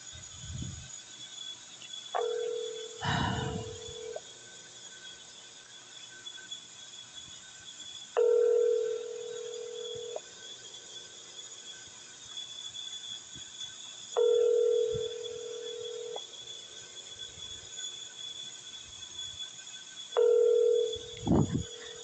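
A telephone call being placed, with electronic tones sounding over the line: a steady tone with a buzzy electronic hum underneath, repeating about four times at regular intervals of roughly six seconds, each lasting around two seconds, close and clear.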